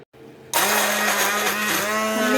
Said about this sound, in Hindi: अब मैं इसे हैंड ब्लेंडर की मदद से ब्लेंड करूँगी।